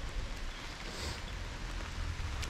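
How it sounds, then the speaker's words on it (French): Steady, dense rain pours down outdoors during a wet Honda CRF 125 oil change, a constant close hiss with faint drops pattering on surfaces and no talking. "il fait que pleuvoir"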